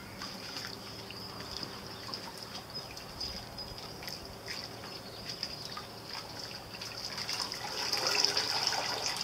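Water sloshes and trickles steadily as a Cornish cross chicken is dunked and twisted in hot soapy scald water during butchering on a ranch, a close, continuous wet swirling with no talk.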